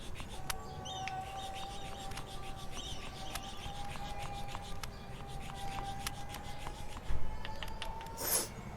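White sandalwood being rubbed on a stone to make paste, a continuous close rasping rub with rhythmic strokes and a brief louder scrape near the end, no voices.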